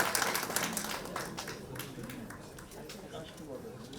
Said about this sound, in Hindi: आपकी करतल ध्वनि, आपकी तालियां जरूर होनी चाहिए।